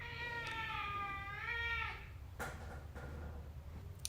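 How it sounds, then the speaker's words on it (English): A house cat meows in a long, drawn-out, wavering cry, fairly close and clear over a low steady background hum, followed by a few faint clicks and shuffles. "speaking of my cat appearing in the reading, you have a cat"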